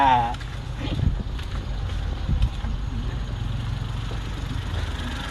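A Suzuki Every DA64 van's engine idles steadily after a turbo replacement, a low, even hum that sits just under someone talking and laughing nearby.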